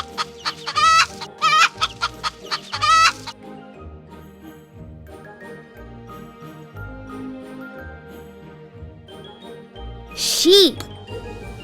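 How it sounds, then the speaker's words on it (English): A hen clucks in a quick run of repeated clucks at the start, loud and close, over a tinkling toy-phone jingle, followed by quieter electronic tones and a chirp. "Hen."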